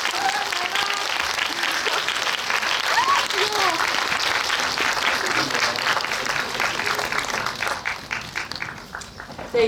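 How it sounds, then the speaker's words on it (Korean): Cinema audience in a packed screening hall applauding actors and a director at a live event, sustained dense clapping throughout that tapers slightly near the end, with a few faint voices mixed in. "오늘 함께 해주신 세 분께 끝까지 큰 박수 부탁드립니다."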